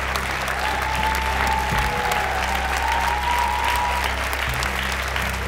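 An audience at a national singing contest gala concert applauds the participants. Loud, continuous clapping runs throughout over a low steady hum.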